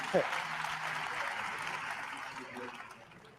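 An audience at a keynote watch party applauds in a steady, continuous wash of clapping that holds at moderate volume for the whole stretch, then tapers slightly toward the end.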